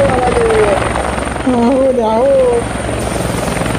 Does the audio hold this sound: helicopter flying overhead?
yes